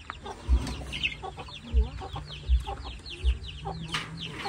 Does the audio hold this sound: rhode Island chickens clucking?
yes